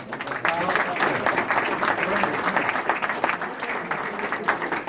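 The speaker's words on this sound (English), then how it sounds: "Let's give all of our candidates a round of applause" Audience at a meeting applauds the candidates, a steady, moderately loud round of clapping lasting several seconds with a voice faintly underneath.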